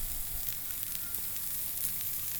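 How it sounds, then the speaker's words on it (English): Bacon sizzling on a Blackstone flat-top griddle, a steady close hiss and crackle with no talking. "We're going to start off by putting our bacon on."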